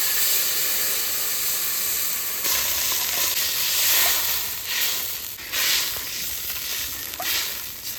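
Water poured into hot oil with dried chilli and black cumin for a fish curry, giving a loud, steady sizzle and hiss with surging bursts of steam throughout, no voices.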